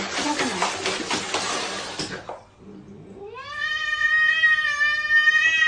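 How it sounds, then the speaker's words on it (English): A large cat gives a long, loud, drawn-out meow in the second half, rising and then holding steady, close to the mic. Before it comes a stretch of noisy, broadband rustling or scuffling. "First of all, that's a huge cat."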